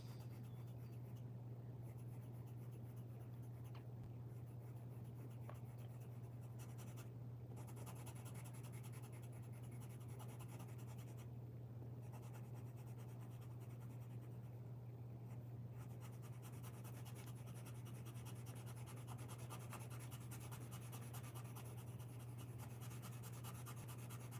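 A pencil drags across paper while a portrait is drawn, giving steady soft scratching and rubbing strokes that run throughout over a constant low electrical hum.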